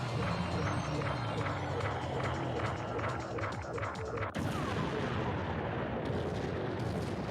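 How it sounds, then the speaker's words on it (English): Dense bursts of explosions and rapid gunfire fill the Gradius shooter game, a loud continuous barrage of booms and crackles with a sharp break midway before the blasts resume. "All these explosions lag the game to no avail."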